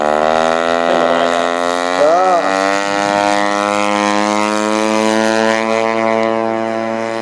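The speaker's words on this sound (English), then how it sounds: "P47 is up and away" A Hangar 9 P-47, a 150-size radio-controlled model warplane, roars through its takeoff run with a loud, steady engine drone whose pitch wobbles briefly, heard close throughout.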